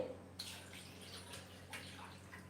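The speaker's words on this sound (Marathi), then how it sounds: "आपण यामध्ये पाणी टाकले" Water splashes and pours steadily into a close container holding curd, with a couple of louder sloshes.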